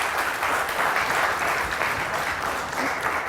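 Loud, dense audience applause fills a hall at the Ehd-e-Wafa Silver Jubilee Award Show in Chitral, sustained and even from start to finish without any voices on top.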